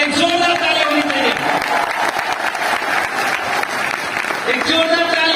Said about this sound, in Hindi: मैं चाहूंगा उनके लिए एक जोरदार तालियां होनी चाहिए